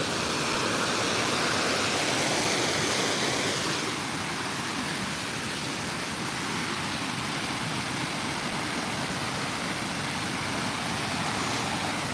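Steady broadband rush of flowing water, loud and continuous like a nearby stream or small waterfall, slightly louder in the first few seconds and then holding evenly with no voices.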